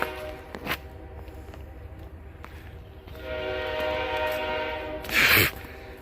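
A train passes near a hiking trail, a low steady rumble of rail cars with a rising hum, then a loud, brief blast of the train horn near the end.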